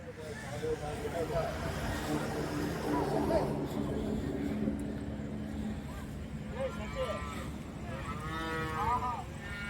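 Native cattle, including Gir-type cows and their calves, moo at the Orappam livestock market in Krishnagiri district. Several drawn-out moos rise near the end over busy crowd chatter, with a person talking nearby.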